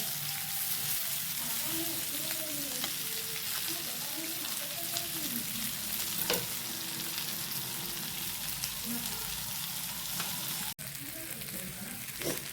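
A whole tilapia fries in a pan, village style, with a continuous crackling sizzle that runs the whole time. A voice murmurs faintly over it early on, and there is a sharp knock near the end.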